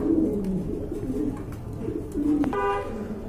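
A pair of Bombay pigeons coo in low, repeated murmurs nearby, with a short horn-like tone sounding near the end.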